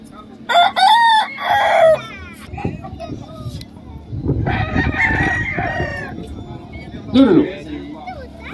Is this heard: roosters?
yes